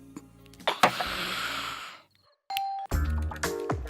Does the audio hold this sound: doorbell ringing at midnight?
yes